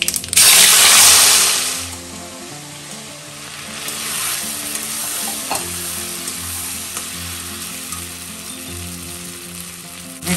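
Citron pieces hitting hot sesame oil with mustard seeds and turmeric for a pickle, a sharp loud sizzle burst at first that settles into a softer, steady frying crackle with a few clinks.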